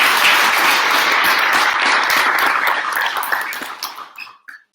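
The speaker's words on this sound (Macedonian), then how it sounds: "професор, еден аплауз." An audience bursts into loud, dense applause for a professor, sustained for several seconds before thinning out into a few scattered claps at the end.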